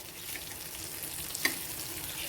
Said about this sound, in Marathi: बाकी सगळ्या मी तुकड्या परतून घेणार आहे